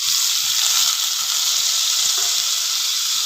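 Lentils fry in hot oil with onion, a loud, dense and continuous sizzle heard up close with faint stirring underneath.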